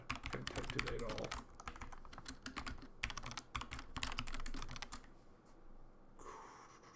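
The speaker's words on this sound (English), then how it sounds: "Oh god, can't type today at all." Rapid bursts of typing on a computer keyboard, close and crisp, trailing off near the end, with someone speaking quietly now and then.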